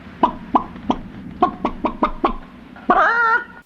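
A chicken clucks in a series of short, evenly spaced clucks, then gives a longer drawn-out squawk, close and clear with no talk.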